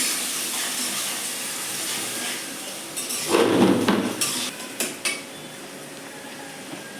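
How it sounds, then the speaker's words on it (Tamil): Finely chopped onions sauté in a pan for a quail pepper fry. A steady soft hiss runs throughout, and a louder burst of clattering and scraping from a utensil comes midway. "இதை நல்லா வதக்கிக்கலாம்"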